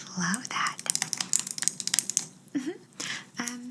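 Rapid keystrokes on a computer keyboard in an ASMR interview role-play, clicking in irregular bursts close to the microphone, broken up by brief soft speech.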